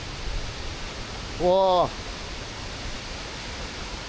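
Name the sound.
Bomburuella waterfall near Nuwara Eliya, Sri Lanka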